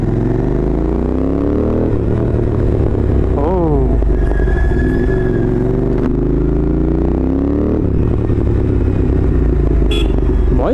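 Motorcycle fitted with Motoking headers and a loud full-system exhaust, a deep booming rumble that swells through several revs, with passing traffic and a brief horn mixed in.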